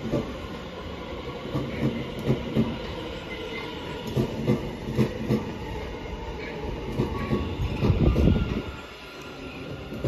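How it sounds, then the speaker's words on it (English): A London Overground train pulls into platform 9 at London Euston, wheels rumbling and clattering over the rails with brief squeals. The loud, close approach fades near the end, and no one speaks. "Now arriving on platform 9 at London Euston is your 10, slightly early"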